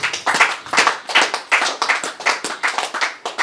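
A church congregation claps in rhythm in praise of the Lord, a loud, close, evenly paced beat of about three to four claps per second.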